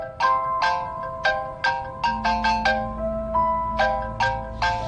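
A mobile phone rings with an incoming call, a loud repeating electronic melody of bright pulsing tones, with a low hum joining partway through.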